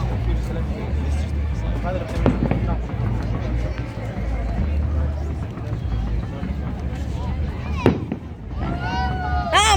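Fourth of July fireworks over Tempe Town Lake in Tempe, Arizona, popping and booming in the distance through a steady crowd hubbub, with a few sharper bursts standing out and people talking nearby.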